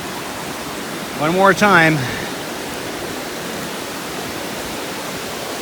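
Emperor Falls on the Berg Lake trail roars as a steady, broadband rush of falling water, constant from start to finish, with a short spoken phrase breaking in near the beginning.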